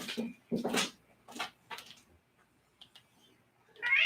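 A cat lets out a few meows and plaintive cries nearby, in short bursts with quiet gaps between them.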